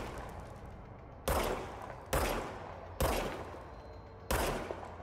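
Gunfire from a regenerating infinite-ammo gun in the video game Control: four sharp, loud shots spaced about a second apart, each with a decaying tail, over a quiet background with no talk.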